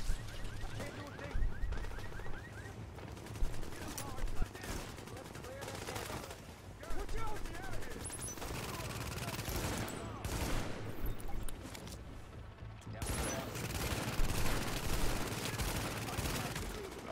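Rapid bursts of gunfire from the video game Tom Clancy's The Division on PS4, steady and dense through the whole stretch, with a player talking over the shooting.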